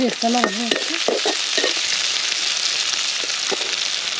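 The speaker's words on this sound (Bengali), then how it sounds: "এখানে আমি আদা রসুন বাটা দিয়ে দিচ্ছি এগুলো ভালো করে কষিয়ে নিয়েছি" Ginger garlic paste sizzles steadily in a hot pan while cooking for a village-style pangas fish dish, with a few stirring scrapes near the start under the continuous frying hiss.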